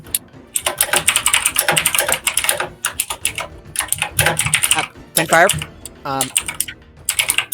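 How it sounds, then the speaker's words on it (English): Loud, rapid clatter of a computer keyboard during an online Eberron tabletop roleplaying session, with bursts of keystrokes running continuously beneath people talking. "your typing is kind of loud"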